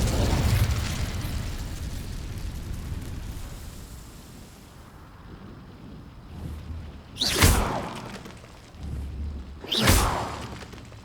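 In Hogwarts Legacy, the Incendio fire spell opens with a loud whooshing roar of flame that fades away. Two sharp, bright bursts with low thuds follow in the quieter second half.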